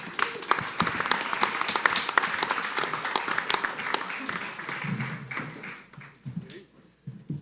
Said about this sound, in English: Give Chris a round of applause.